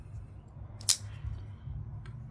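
A single sharp metallic click of a Hinderer XM-18 or XM-24 folding knife blade snapping shut, brief and close, over a low background rumble.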